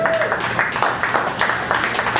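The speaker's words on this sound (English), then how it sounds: "it makes you feel good when y'all applaud" An audience at a bass clinic applauds, dense steady clapping from many hands filling the room without a break.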